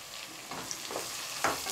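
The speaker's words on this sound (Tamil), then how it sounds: "வெங்காயம் நல்லா வதக்கிடுங்கம்மா" Onions sizzle in a hot pan with green chillies as a utensil stirs and scrapes through them a few times.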